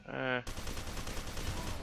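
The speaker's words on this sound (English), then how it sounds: "Napalm cannon." A napalm cannon fires in the shooter game F.E.A.R. 2: a short rising tonal whine breaks into a dense, sustained roaring blast that fills the rest of the moment.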